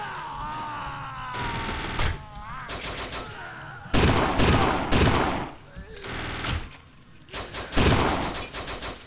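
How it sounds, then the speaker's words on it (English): Gunfire in Kane and Lynch 2: Dog Days comes in loud, close bursts of rapid shots that repeat several times with short pauses between them. Game voices and groans mix in with the shooting. "I just love the way the guns sound in this game, and like the effects that they do sound very realistic"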